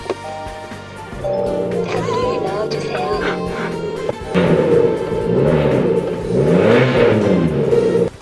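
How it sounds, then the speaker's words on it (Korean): A Kia K3 (All New K3) fitted with a tuned aftermarket exhaust starts up and revs repeatedly, its loud engine note rising and falling in several sharp pulls up close, with no talking. "이거 방금 들으신 거 기블리 아닙니다 K3에서 나는 소리를 들으신 거예요."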